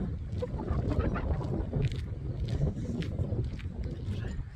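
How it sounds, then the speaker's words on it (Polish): Strong wind roars across an open hilltop used for gliding, buffeting the microphone with a continuous low rumble and gusty swells throughout, with no one speaking. "Wieje. niesamowicie."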